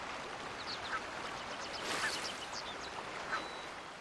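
Faint, scattered shoreline bird calls ring out over a steady outdoor wash of ambience, a few brief chirps and quacks spaced across the stretch.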